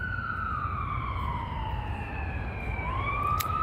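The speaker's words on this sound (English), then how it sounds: "a psychopath is sounding sirens" Wailing sirens from emergency vehicles sound outside near a public library in Upland, sliding pitches rising and falling steadily and fairly loud over low rumbling street background, without talk.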